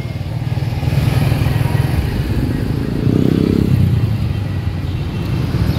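Motorcycles rumble and rev up close along a busy bike-market street in Lahore's old city, engines droning continuously with one rising rev partway through.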